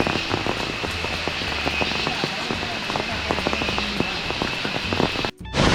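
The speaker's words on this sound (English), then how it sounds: "Here we are at the waterfalls." Abbey Falls waterfall, swollen after rain, gives a steady broadband rush of falling water with scattered splashy crackles, loud and continuous until a brief dropout near the end.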